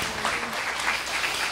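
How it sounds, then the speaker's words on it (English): Audience applause at a church gathering, a brief, dense burst of hand clapping from a small crowd, steady and fairly close throughout. "Give these people a hand clap for going for y'all's."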